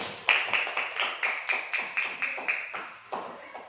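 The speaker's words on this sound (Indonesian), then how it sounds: "Tepuk tangan kelompok 1 membuat mie." Schoolchildren in a primary classroom clap for group one's noodle-making presentation, a rhythmic, evenly spaced series of about fourteen unison claps, fairly soft and close.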